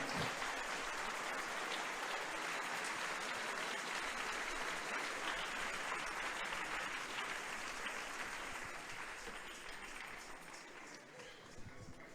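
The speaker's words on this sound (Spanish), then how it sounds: "¿Alguien le puede dar una ofrenda de palmas al Rey?" A church congregation applauds in worship, sustained crowd clapping heard from a distance at a fairly low level, steady for most of its length before tapering off toward the end, with some voices mixed in.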